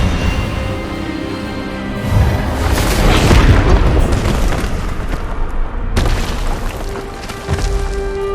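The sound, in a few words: Expelliarmus spell blast in the Hogwarts Legacy video game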